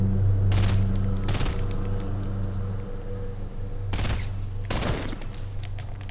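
Grenade launcher fire in Fortnite during a squad match: four sharp, loud bursts in two pairs over a steady low game hum, with no voices.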